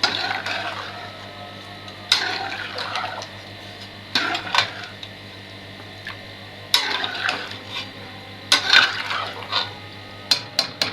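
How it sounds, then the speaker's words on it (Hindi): Rice being stirred and mixed in a pot for a home-cooked festive meal, giving a few scraping, clattering bursts of spoon against metal spaced a couple of seconds apart over a steady low hum. "चावलों को कर लेते हैं जी मिक्स।"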